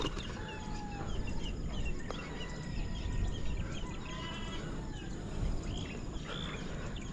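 Outdoors, a released bird gives soft, scattered clucks and chirps against a quiet background hum, faint and intermittent over several seconds.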